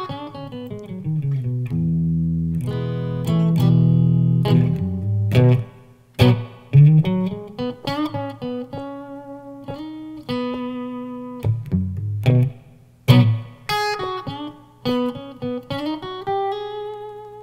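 Electric guitar improvising lead lines over the chords of the Grateful Dead's Sugaree, with sustained bends, slides and separate plucked notes, clear and close with no talking.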